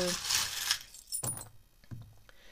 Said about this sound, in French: je vais faire un peu de bruit parce que je vais prendre les breloques